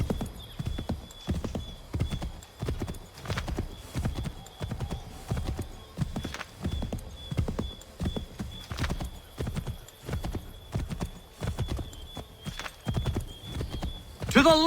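Horse hooves clip-clopping in a steady, brisk rhythm while riding in Assassin's Creed III, with a constant faint whine behind and voices talking over it.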